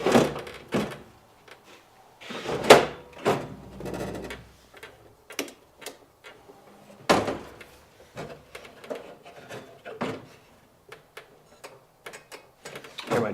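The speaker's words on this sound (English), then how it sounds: "Hear my door switch clicking." Door switch on a Dixie Narco BevMax vending machine clicking, a series of sharp, irregular clicks and clacks close by with quiet pauses between them.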